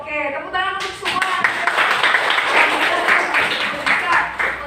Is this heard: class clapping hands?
yes